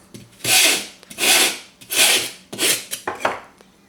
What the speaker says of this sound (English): So we can come in and use our file.